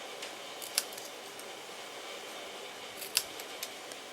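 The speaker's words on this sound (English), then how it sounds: "how I create the banner is I cut down the middle" Scissors snipping down the middle of a paper banner during a Stampin' Up card project, two crisp faint cuts over a quiet room hiss.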